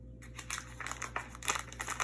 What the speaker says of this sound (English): Open the flaps up and take out the bag that's inside.